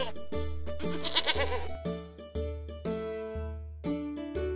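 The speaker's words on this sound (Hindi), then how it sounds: "राकेश के बकरी के झुंड में से एक छोटी सी बकरी घूम गई।" A small goat strays from a herd and bleats in a cartoon comedy scene. Several wavering bleats sound in a row over a steady droning musical background.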